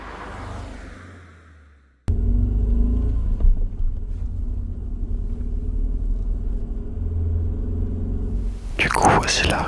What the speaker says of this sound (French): écoute-moi les bruits de roulement que ça fait, c'est impressionnant